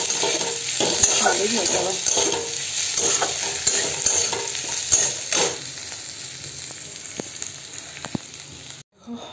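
Maggi noodles with chicken, Maggi masala and sauce are stir-fried in a pan, giving a bright steady sizzle with repeated scraping and tapping of the spatula. A brief spoken remark comes partway through, and the sound cuts out near the end.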